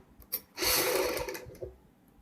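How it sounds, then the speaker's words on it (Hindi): A sewing machine runs in a short close burst while stitching piping onto the neck of a kurti, a steady whirring hum of about one second, briefly tapped before and after. "दूसरी साइड भी हम इसी प्रकार सिलाई लगाएंगे।"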